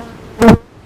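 Honeybees buzzing close by during a hive inspection, a single short loud swell of wingbeat drone lasting about a quarter second over a quiet background.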